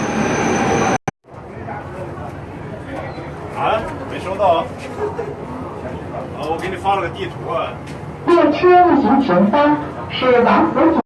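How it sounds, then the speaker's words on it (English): A subway train pulls in with a loud rumble and rising wheel squeals, ending in metallic screeching; voices talk over the noise. "Oh, here's our train."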